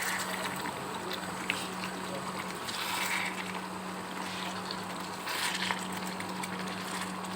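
Broiler chicken bhuna fries in a pan with a continuous soft sizzle, while occasional light scrapes and clicks mark it being stirred over a low background hum.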